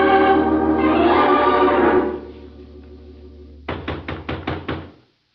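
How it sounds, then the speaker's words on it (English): A knock on a wooden hut door in a 1940s radio drama: a quick series of about five sharp raps near at hand, after a stretch of music fades out. "There was no answer to my knock."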